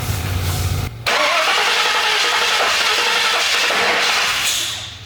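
Restored Ford Bronco engine cranking and starting after wiring work, with a short low rumble, a brief gap, then a loud, dense, roaring run close by that fades slightly at the end, with no talk.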